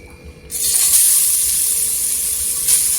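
Grated carrots dropped into hot ghee in a pot for carrot halwa, setting off a sudden loud steady sizzling hiss that holds close and strong, with a brief swell near the end.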